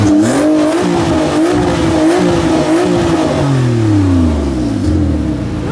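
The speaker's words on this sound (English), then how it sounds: "Actually really loud, which if you like the sound of a flat six, is perfect." A W Motors Fenyr Supersport with a Kline valvetronic exhaust and a flat-six engine revs hard and loud up close, its pitch rising and falling through repeated throttle blips with no talking over it.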